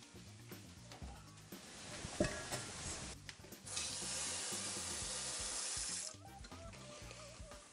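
Water from a kitchen tap runs into a pot for boiling pasta, a steady rushing stream for a couple of seconds after some brief clatter of kitchen handling, then the flow stops.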